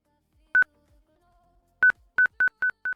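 A custom copying sound from the ClipJump clipboard manager, made of short beeping tones like phone dial keys: one beep, a pause, then a quick run of five beeps, clean and close.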